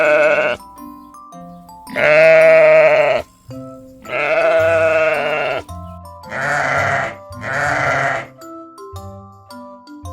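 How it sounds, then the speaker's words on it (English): A sheep bleats four times, wavering nasal calls of varying length separated by brief gaps, close and loud with nothing else heard. "Sheep says baa."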